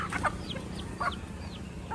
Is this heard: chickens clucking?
yes